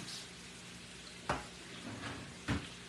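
Chopped onion sizzles quietly in a hot frying pot, a soft steady hiss broken by two short clunks of a spoon or utensil against the pot.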